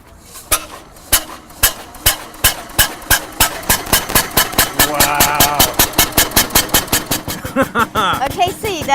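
A replica of the world's first car, started with a flywheel, runs with a slow single-cylinder chuffing that gradually quickens into a steady regular beat, loud and close, with voices talking over it.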